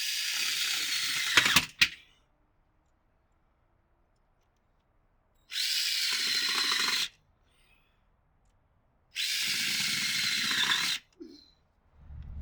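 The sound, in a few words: drill motor drilling plastic chair pieces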